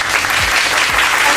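Classroom of children clapping for a classmate, a close, loud burst of quick overlapping handclaps filling the short moment.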